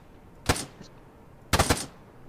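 Gunfire in the Arma 3 military shooter: two separate bursts, the first a single sharp shot and the second a quick rapid cluster about a second later, loud and close with no speech.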